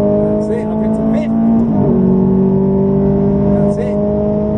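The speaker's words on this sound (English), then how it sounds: "Back on the power now, build your speed" A Ferrari on a racetrack accelerating hard under power, engine note rising steadily up through the gears with a brief shift around midway, while a voice talks over it.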